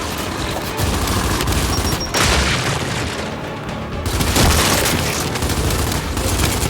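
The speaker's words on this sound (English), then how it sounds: "Throwing frag!" In the video game Gears of War 5, a frag grenade goes off in the middle of a dense, loud battle, its booming blast surrounded by continuous gunfire and rumbling explosions.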